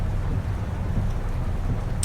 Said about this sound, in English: I know the rain is quite loud